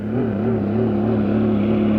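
Steady, loud roar of a Maverick hydroplane racing boat powered by an Allison engine, a continuous droning engine tone with a slight wavering pitch as it crosses the finish at a 1957 hydroplane race.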